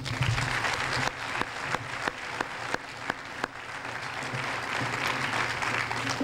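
An awards ceremony audience applauds the evening's recipients, dense clapping at moderate level with a few sharper individual claps standing out, continuing evenly for about six seconds.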